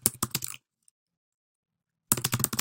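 Rapid clattering keystrokes on a computer keyboard, close and crisp, come in two quick bursts separated by a stretch of silence.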